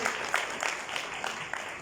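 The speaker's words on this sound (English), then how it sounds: "Round of applause." Round of applause at a football club's 50th anniversary banquet, a short burst of scattered clapping from the room, moderately loud and brief, fading quickly.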